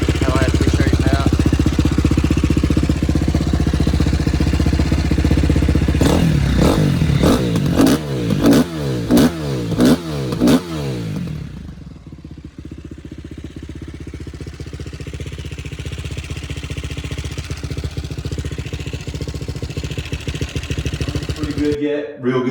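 A 2008 KTM 450 SXF motorcycle engine with top end noise runs loudly and close, with a burst of rapid throttle blips midway before settling into a steady, clattery idle that drops slightly and then picks back up.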